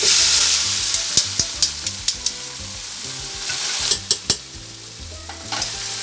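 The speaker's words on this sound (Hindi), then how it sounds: "अब मैं इसमें चावल ऐड कर दूँगी।" Rice for deghi zarda, a sweet saffron rice dish, goes into a pot already sizzling with cardamom. The pour brings a burst of grainy rattles and scraping taps over a steady frying hiss, close by and with no talk.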